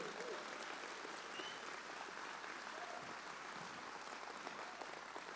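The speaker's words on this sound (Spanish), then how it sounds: "dale un fuerte aplauso a Jesús" Congregation applause at an evangelical church service, steady dense clapping held at moderate level throughout, with a faint voice or two underneath.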